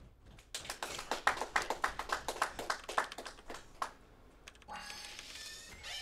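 A small audience at a speedrun charity event claps for a donation, a brief patter of applause from a few hands, fairly close, quickly fading as other faint sounds continue.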